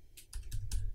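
Fingers typing on a computer keyboard, about four soft, close key clicks in a quick uneven run, faint and alone in a quiet room.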